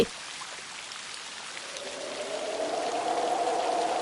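Steady rain pours down in a Bengali folk-tale cartoon, a dense, even hiss that starts soft and swells louder over the few seconds, with no voices.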